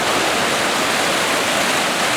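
Creek water flows steadily beside a concrete dam foundation at the abandoned Oregon City waterworks, a loud, close, continuous broadband rush with no talking.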